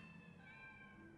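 A cat meows in the video game Tacoma, a single drawn-out mew heard close and clear over a steady low ambient hum, with no talking.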